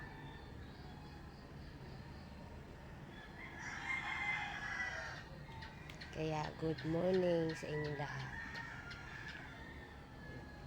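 A rooster crows once in the distance, loud enough to stand out from a steady background hum, while a person speaks softly.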